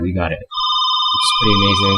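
A phone rings with a bright electronic tone that repeats in two pulses and overlaps someone talking before and after, close and clear.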